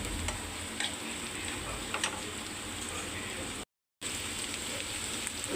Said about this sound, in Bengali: আমি এটা একটু ভেজে নিছি